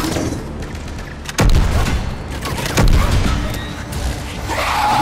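Loud, dense gunfire and heavy blasts from the video game Mass Effect 3 make a continuous fusillade with sharp booming impacts.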